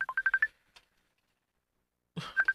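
A phone rings with an incoming call: a quick run of bright electronic beeps, a short silence, then the beeping tones start again, close and fairly loud.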